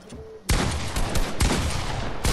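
Rapid automatic gunfire from the video game Fortnite bursts out loud and dense after a quiet moment, with a few sharper shots punching through the continuous fusillade.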